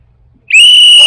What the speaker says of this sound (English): Show us how that whistle